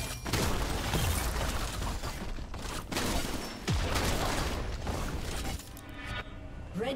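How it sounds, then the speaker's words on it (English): A turret being destroyed in League of Legends comes through as dense, loud crashing and shattering, with rapid impacts and mechanical clatter over busy game noise that thins out near the end. "Red team's turret has been destroyed."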